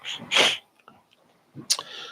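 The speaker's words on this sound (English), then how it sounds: "All these sniffles." Two short, sharp nasal sniffs close to the microphone, separated by a brief pause, with faint breathy sounds between them.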